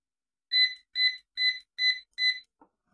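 An electronic carp fishing bite alarm gives five crisp, evenly spaced high beeps in quick succession as its button is pressed, loud and close in otherwise silent surroundings, followed by a faint click.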